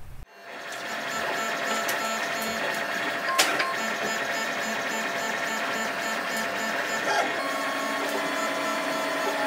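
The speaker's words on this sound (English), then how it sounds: "This printer is busy doing its dual extruder print" A 3D printer running a dual-extruder print whirs and buzzes steadily, its stepper motors producing repeating tonal whines and rhythmic patterns, close and continuous without talk.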